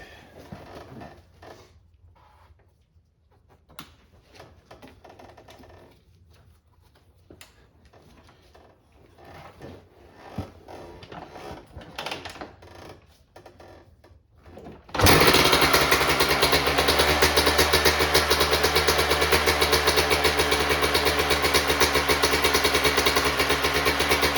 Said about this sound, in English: usually starts first kick with the choke